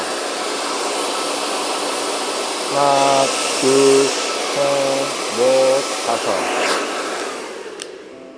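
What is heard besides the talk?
hair dryer blowing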